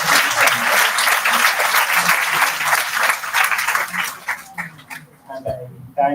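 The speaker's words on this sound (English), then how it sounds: "we have to give a big round of applause for that." An audience at an academic research conference gives a round of applause, dense hand clapping that holds steady for several seconds, then thins out and trails off into a few scattered claps.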